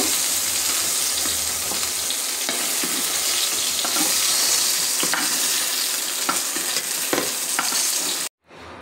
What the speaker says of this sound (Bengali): আমার বেগুনগুলো ভাজা হয়ে গেছে, আমি এবার উঠাই নিব।